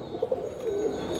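A grey checker Mookee pigeon, a female bird, gives a short, soft coo of a couple of low pulses followed by a longer drawn note, close by and alone with no talking.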